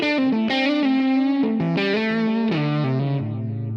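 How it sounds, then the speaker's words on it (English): Electric guitar through a Line 6 Helix US Super Vibe amp model with delay added, a short sustained melodic phrase of a few held notes, warm and slightly gritty, close and clear with a faint trailing echo. "we could add some delay onto that"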